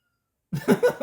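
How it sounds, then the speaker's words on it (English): A cat's meow-like cries, two or three short voiced calls close by after half a second of silence. "My cat, I don't know if you could hear her in the background,"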